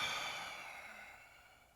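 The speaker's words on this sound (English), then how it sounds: "Let's stay for an exhale." A single slow exhale during a yoga stretch, soft and airy, close up and alone, fading gradually as the breath runs out.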